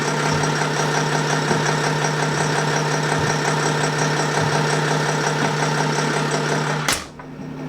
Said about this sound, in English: the engine is actually running.